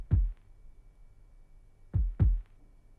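A kick drum in a music track doubling as a heartbeat: three deep, soft thumps, one alone and then a close pair like a lub-dub, with near silence between.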